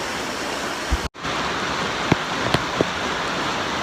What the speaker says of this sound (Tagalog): And kusog yapon ang ulan.